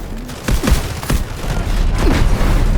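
Gunfire in the video game Delta Force, a loud burst of rapid shots and booming impacts in an irregular rhythm over a constant battlefield rumble.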